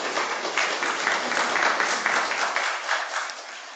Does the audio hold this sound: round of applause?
yes